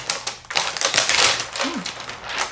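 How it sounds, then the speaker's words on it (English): A plastic package of whiteboard clings is torn and pulled open close up, giving dense crinkling and crackling with quick tapping clicks in irregular bursts. "So just basically opening this package."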